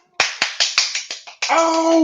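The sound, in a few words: hands clapping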